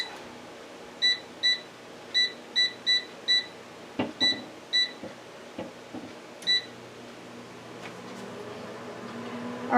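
An air fryer's control panel beeps a series of short, evenly spaced high tones, about nine in quick succession, with a couple more later, over a quiet room background while its cooking timer is set to restart.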